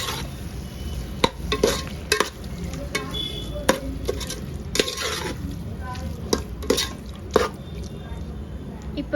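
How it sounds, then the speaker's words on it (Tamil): Half a kilo of tiger prawns is stirred and mixed into a mashed tomato masala in a pan, with a steady frying sizzle and repeated scraping clicks of the spoon close up. "இது கூட நான் 1/2 kg இறால் எடுத்திருக்கேன், டைகர் ப்ரான். அதையும் சேர்த்துக்கலாம். இது போட்டு நல்லா மிக்ஸ் பண்ணிப்போம்."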